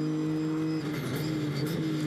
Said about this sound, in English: watch the McLaren pull away. Down the straight, it's got plenty of grunt off the corner and down the straight